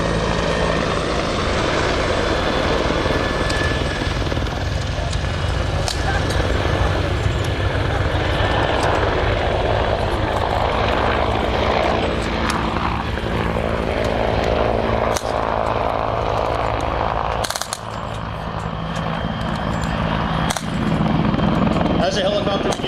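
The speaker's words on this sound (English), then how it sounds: "CH-146 Griffin helicopter. It will be coming over the site, just circling, landing" A CH-146 Griffin military helicopter circles overhead and comes in to land at a Canadian Forces exercise site, its broad rotor and engine roar steady and loud throughout, with other vehicle and wind noise underneath.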